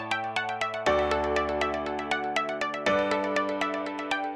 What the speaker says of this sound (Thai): ทางแอปของเราก็จะมีข้อความแจ้งเตือนเข้ามาในมือถือของคุณลูกค้าเลย